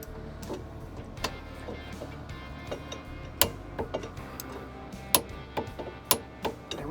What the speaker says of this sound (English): So I set my torque wrench for 40 and we'll get this thing torqued on.